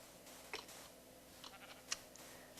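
Sheep bleating in the Minecraft video game, faint and brief calls heard two or three times over a quiet background with a few soft clicks.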